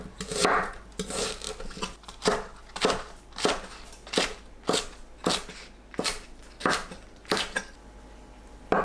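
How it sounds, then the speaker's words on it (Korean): A knife slices onion and green onion on a cutting board in a steady series of about a dozen crisp chops, close and loud, with no talking. "양파와 파를 썰어서 준비합니다"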